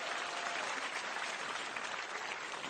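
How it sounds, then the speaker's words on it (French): Sustained applause from a television show audience, steady and dense throughout, with no pauses or talking. "On les applaudit encore"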